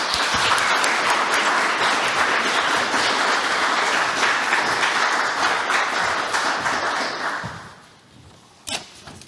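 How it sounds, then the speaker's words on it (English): Sustained applause from a conference audience at a science days event fills the room loudly and evenly for several seconds, then fades out quickly, leaving a few scattered claps. "we should give a big applause to the Estonian Academy, Tarmo, and the angels who did all this for"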